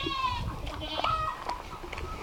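Goats bleat on a farm where a dog is being fed treats, a couple of wavering cries close by over a noisy outdoor background, with no one speaking.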